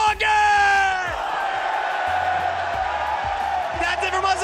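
A loud arena crowd at Mullet Arena roars, cheers and yells through a League of Legends esports finals event, a dense sustained wall of voices with announcer-style shouting rising over it at the start.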